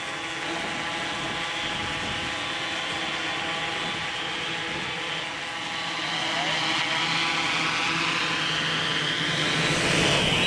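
A University of Maryland drone aircraft flies in and lands, a steady close whirring drone of electric rotors with a tonal hum that swells slightly toward the end, with no talking.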